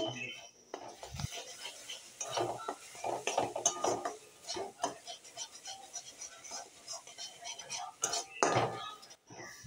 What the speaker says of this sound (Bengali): 4 চামচ মতো টক দই দিয়ে এবার অল্প একটু জল দিয়ে খুব ভালো করে মশলাটার সাথে কষাবো